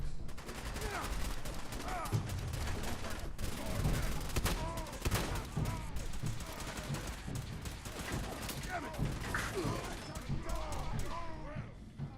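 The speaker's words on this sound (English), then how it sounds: "They are firing live rounds." Rapid, overlapping gunfire from the Fallout 4 video game crackles through a chaotic battle, with loud bursts and scattered shots running throughout alongside shouted voices and other game effects.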